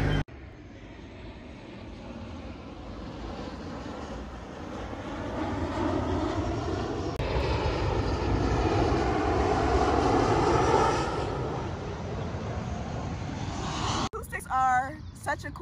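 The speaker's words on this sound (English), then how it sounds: "The airplane that was flying from over here, it actually sounded like it was over there" An airplane passes overhead as a broad, droning engine roar that swells gradually, peaks near the middle and fades, heard at a distance beneath and between people talking.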